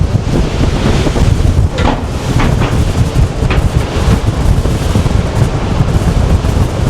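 Strong Arctic coastal wind in Norway's Lofoten Islands buffets the microphone in a constant loud roar with gusty surges, along with what sounds like water and surf nearby.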